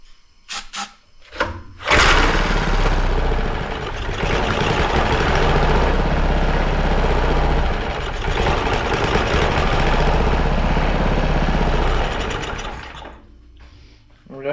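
The small engine of a tiny barn-found steam roller cranks over with starting fluid, loud and rapid and chattering for about ten seconds. A few short knocks come before it, and it dies away at the end.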